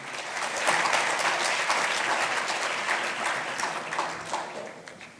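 Sustained audience applause fills a community gathering of South Florida Muslim organizations, a dense steady wash of many hands clapping for about five seconds with no voices on top.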